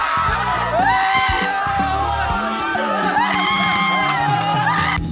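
A large crowd trails a man carrying a snake through a slum area of Budhnagar, Malad Malvani, Mumbai, with loud continuous shouting, whooping and yelling surging throughout, while a voice talks over the din.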